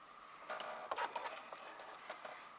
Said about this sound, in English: So I'm going to stitch forward and backward and forward and backward.